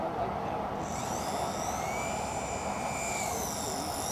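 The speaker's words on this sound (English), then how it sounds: "Beautiful landing, Jerry." A Super Cub RC model airplane lands in strong wind, its small engine a thin whine above steady heavy wind noise on the microphone.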